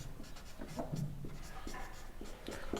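Pen scratching on paper while working maths problems: quiet, close, irregular strokes and small taps in short bursts, with soft talk faintly in the background.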